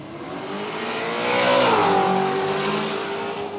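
A Ford Cortina drag car in the manual class launches at Willowbank Raceway, its engine roaring loud and close as it revs up and climbs in pitch, then holds steady and slowly eases away.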